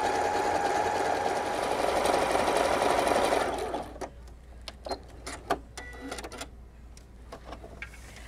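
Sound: sewing machine stitching the long edge of a tote bag

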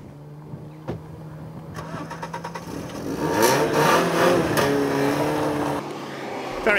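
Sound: Alfa Romeo car engine revving on the road

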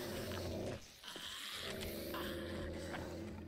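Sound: dog growling in the video game 7 Days To Die

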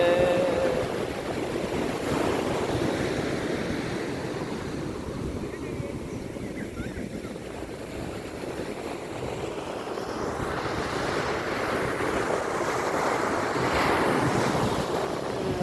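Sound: sea waves at Kovalam beach

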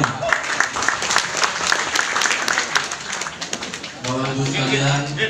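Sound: audience applause

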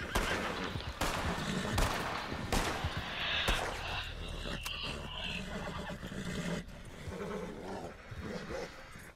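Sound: gunshots near horse in video game Red Dead Redemption 2

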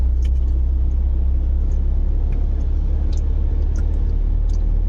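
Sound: heavy road traffic

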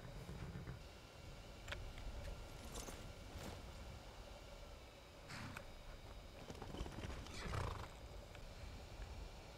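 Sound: horse from a video game

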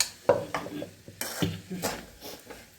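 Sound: stirring sweetcorn uppittu in a pan

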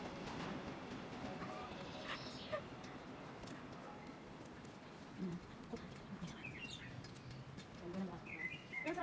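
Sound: birds chirping

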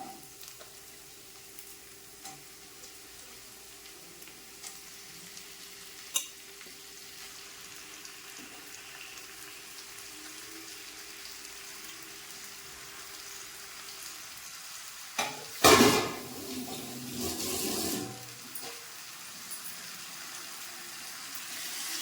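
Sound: washed chicken added to pan and sautéed

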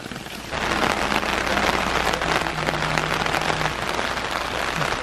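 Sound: rain falling outdoors

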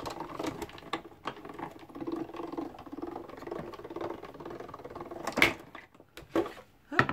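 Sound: embossing machine cranked back and forth on toilet paper

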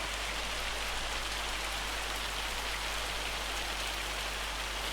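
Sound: hail falling in a video game weather mod

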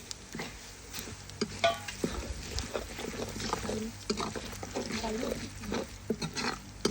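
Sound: melon seeds, cumin and fenugreek frying in hot oil

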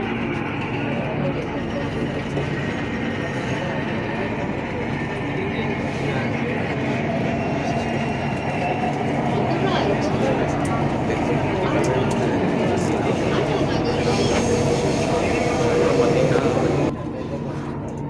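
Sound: Chennai Metro train riding

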